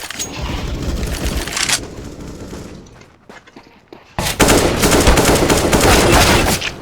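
Loud bursts of gunfire from a first-person shooter game, apparently a Desert Eagle pistol, including a headshot: dense shots for nearly two seconds, a quieter gap with scattered pops, then another loud sustained volley.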